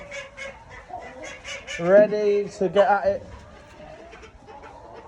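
Chickens in a UK backyard coop, kept together indoors over winter, cluck and squawk noisily and continuously, with a loud burst of honking calls partway through; a person talks over the birds.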